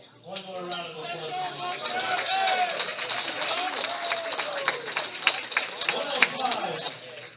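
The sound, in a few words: audience applause at powerlifting medal ceremony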